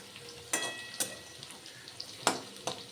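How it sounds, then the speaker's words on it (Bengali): Potatoes fry in oil in a pan, a faint low sizzle punctuated by a few sharp clinks and scrapes of a utensil against the metal. "আলুগুলো লাল লাল করে ভালো করে ভেজে নেব"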